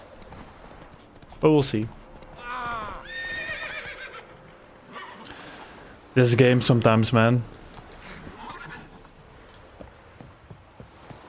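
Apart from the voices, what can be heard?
horse hooves and neighing in The Witcher 3 video game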